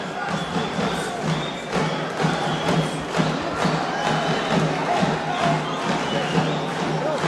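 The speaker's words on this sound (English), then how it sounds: "Local partisan crowd, of course, buoying him on." A local partisan crowd at a 2013 world championship boxing final rumbles and cheers continuously at middling distance, with thuds of punches and a commentator talking over the noise.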